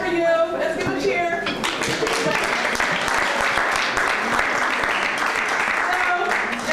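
An audience at a community event claps and cheers in a dense, steady wash of applause that holds at a constant level throughout.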